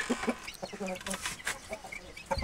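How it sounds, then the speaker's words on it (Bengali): Aseel chickens and roosters at a home breeding setup, clucking in short close bursts with scattered calls and some rustling, no crowing. "আপনাদেরকে আজকে মুরগিগুলো দেখাবো"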